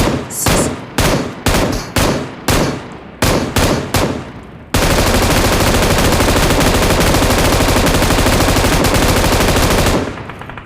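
Gunfire aimed at the tyres of an armoured vehicle in the mobile video game PUBG Mobile: about nine loud single shots in steady rhythm, then a sustained automatic burst lasting several seconds before cutting off.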